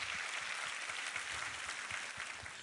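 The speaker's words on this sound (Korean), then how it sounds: "우리 하나님께 감사와 찬양과 영광의 박수 올려드리겠습니다." Applause from a church congregation, a dense steady clatter of many hands clapping together, continuing evenly throughout without voices.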